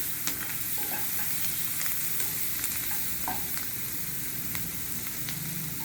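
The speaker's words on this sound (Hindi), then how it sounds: "ये प्याज डाल देंगे। थोड़ा हल्का गुलाबी होने तक इसको भूनेंगे।" Onions fry in a pan with a steady, loud sizzle that runs continuously throughout, broken by occasional stirring scrapes.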